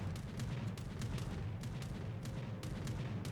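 Naval guns firing over an island in the World of Warships game, from a Chapayev cruiser, heard as a steady roll of low rumbling booms with repeated sharp cracks across the whole stretch, fairly quiet and distant-sounding.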